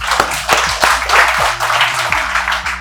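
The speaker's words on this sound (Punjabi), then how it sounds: "ਆਪਣੇ ਬਾਈ ਲਈ ਤਾੜੀਆਂ ਲਾਓ" An audience at a Punjabi institute show claps for a guest at the close, a short burst of close, uneven hand clapping with faint voices mixed in.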